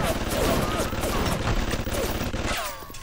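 Automatic turret gunfire in the BioShock video game, a dense rapid burst of shots rattling steadily for most of the moment before cutting off, loud and close, with game sounds trailing after.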